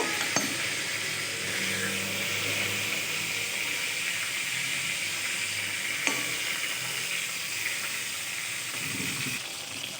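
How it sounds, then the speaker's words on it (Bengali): Pieces of pointed gourd (potol) frying in a pan for a vegetarian potol dorma, with a continuous close sizzle and a few faint utensil clicks. "পটলটা সব দিকে খুব ভালোভাবেই ভাজা হয়ে গেছে।"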